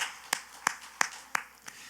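A church congregation claps in a slow, evenly spaced rhythm, five crisp claps roughly a third of a second apart over a quiet room, the last one softer.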